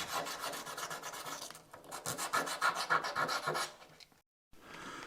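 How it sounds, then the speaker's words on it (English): A cam is sanded flat on top with 600-grit sandpaper on a Maho machine, a steady close scraping rub with quick back-and-forth strokes for about four seconds, a short silence, then fainter rubbing. "I'll just touch the top of the cam with a bit of sandpaper to flatten it off."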